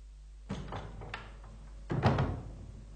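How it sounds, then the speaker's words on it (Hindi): A door is shut in an indoor scene from the Byomkesh Bakshi detective drama, giving a couple of soft knocks and scrapes followed by a firmer, louder thud and rattle near the end. "दरवाजा बंद कर दो, बाहर खड़े रहो"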